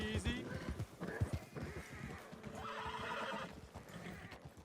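In Red Dead Redemption 2, a horse whinnies loudly near the start, then hooves clop steadily through the rest, with a voice talking over the middle.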